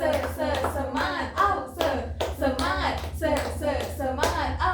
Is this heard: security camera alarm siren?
no